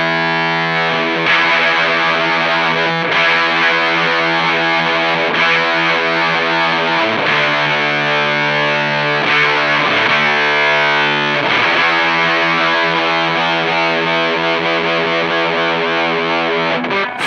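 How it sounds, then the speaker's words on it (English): Electric guitar played through a Behringer Super Fuzz SF300 set to octave fuzz: loud, saturated two-note power chords and tight riffs with string bends, continuous and close with no talking. "play a 2-note power chord and then introduce some more notes and actually play really tightly and also even bend the strings"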